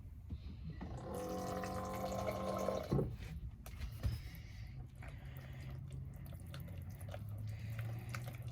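Water poured from a tap to thin a chia seed taco batter, a steady filling stream for a couple of seconds, then a clatter and a quieter kitchen background with light handling noises.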